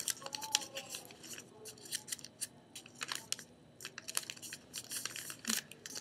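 Crisp crinkling and rustling of origami paper being folded along pre-made creases while shaping a crane, a run of quiet, close, irregular paper taps and crackles with no voices.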